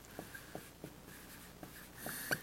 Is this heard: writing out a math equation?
yes